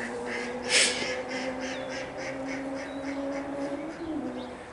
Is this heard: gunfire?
no